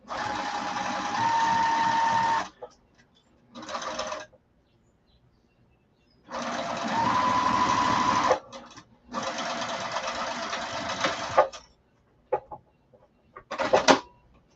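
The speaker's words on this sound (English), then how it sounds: "I'm just going to stick my other piece right under the presser foot, and I'm going to keep sewing." A domestic sewing machine stitching two fabric pieces together under the presser foot, running in several steady bursts of whirring with short pauses between runs, close and clear with no talk.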